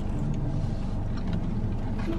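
A car drives in low, steady road rumble, heard from inside the cabin, a muffled engine and tire drone at moderate level with no clear changes in speed.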